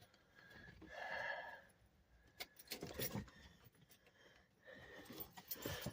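Keys jangling as they are fished out from between the seats of a dusty 2001 Ford F-150 truck, several close metallic rattling bursts separated by quieter shuffling.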